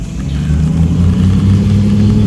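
A loud car engine rumbles close by on a street, its low drone rising slightly in pitch as it rolls past.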